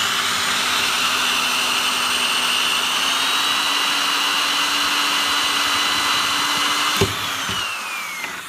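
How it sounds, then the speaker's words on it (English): A drill bores a hole with a Forstner bit, a steady loud whine that runs continuously for about seven seconds before abruptly cutting out and winding down. "And then I'm using a Forstner bit, which cuts through here pretty doggone quick."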